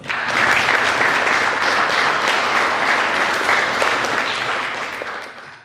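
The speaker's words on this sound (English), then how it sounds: "Would you please give them a round of applause?" Audience applause at a Confucius Institute Day event, a full, even roar of many hands clapping that holds steady throughout and fades slightly at the close.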